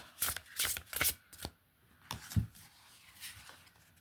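Silver-edged oracle cards from the L'Eveil du Cœur deck shuffled by hand, a series of quick crisp riffling bursts close up with short pauses between them, no talking.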